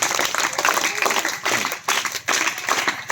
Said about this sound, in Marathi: कोमलसाठी टाळ्या वाजूया